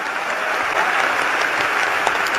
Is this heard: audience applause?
yes